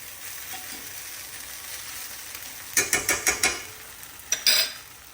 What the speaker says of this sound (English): So that's the pepperonis. That's frying up good.